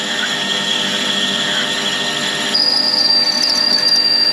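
An 8mm drill is fed into a workpiece on a Warco mini lathe, a close, steady mechanical whir and rattle that shifts to a higher, whining pitch partway through as the bit cuts.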